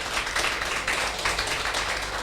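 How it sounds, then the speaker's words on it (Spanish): Audience applause for a speaker at the end of a chaplaincy class lecture, dense, steady clapping from a room full of people, fairly close and loud. "¿qué les parece si le damos un aplauso al disertante"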